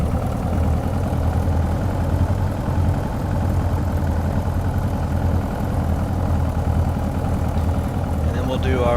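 Piper Arrow piston aircraft engine in Microsoft Flight Simulator during a run-up, a steady low droning hum at constant power, loud and unbroken, with a brief faint chirp near the end.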